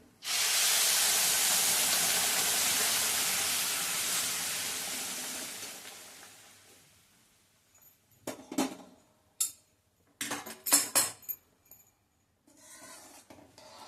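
A loud, steady hiss as hot water is poured into a hot pan with the gas off while making sanja, fading over several seconds, followed by scattered clinks and scrapes of cookware.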